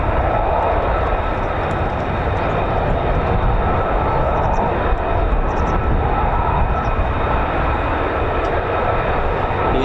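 A US Air Force F-35 fighter jet flies near RAF Lakenheath, its engine a loud, continuous, broadband roar that holds steady and close for the whole stretch, with no voices heard.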